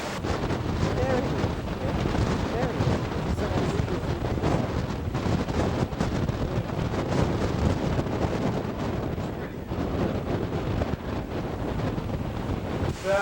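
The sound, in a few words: wind blowing outdoors at Golan Heights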